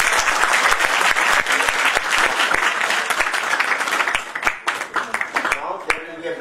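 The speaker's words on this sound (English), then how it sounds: "a big round of applause once again for him" Dense, sustained applause from a seminar audience in a college hall fills the room loudly, then thins into scattered, uneven claps that fade out near the end.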